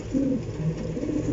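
A large pigeon with a bald head and yellow eyes gives a low, soft cooing, close and steady, with no voices alongside.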